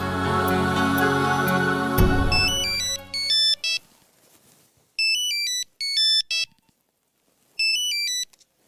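A loud musical passage cuts off, then a phone rings with a repeating electronic melody in several short bursts separated by quiet pauses.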